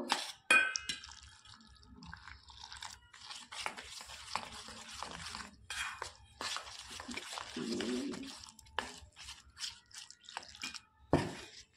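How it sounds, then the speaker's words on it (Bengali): Batter with black cumin seeds whisked with water in a bowl for vegetable croquettes, quick wet stirring and clinking strokes in uneven bursts, close and moderately loud. "এবার এটাকে জল দিয়ে ফেটে নেব।"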